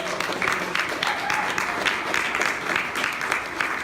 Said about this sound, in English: Can we give a round of applause to those agencies?